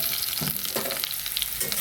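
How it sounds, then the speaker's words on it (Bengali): Soybeans frying in plenty of refined oil in a wok heated until blackened, a steady close hiss and sizzle with faint crackles running throughout, no voices. "এবার আমি রিফাইন তেল দিয়ে দিচ্ছি একটু বেশি করে, তারপরে দিয়ে দেব সয়াবিন"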